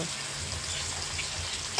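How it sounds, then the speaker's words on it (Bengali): Cut stalks and potatoes, lightly pre-fried, go into a spiced pan in a Bengali kitchen, giving a steady close sizzle of frying with a soft stir at the end and no talk. "ডাঁটা আর আলু ভাজাটা দিল"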